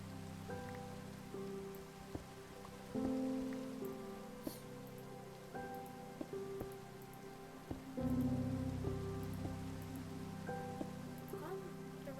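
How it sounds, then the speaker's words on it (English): Steady rain patters down in Minecraft in a soft, continuous hiss, with sustained game music tones and a few brief clicks on top. "Calm, the rain is really nice."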